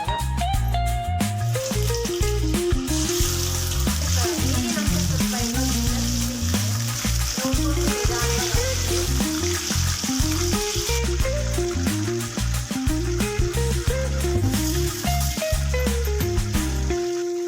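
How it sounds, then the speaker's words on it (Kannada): Soya chunks frying in hot oil give a steady, dense sizzle that runs throughout, mixed under loud background music with no pauses. "ಎಣ್ಣೆಯಲ್ಲಿ ಕರ್ಕೋಬೇಕು."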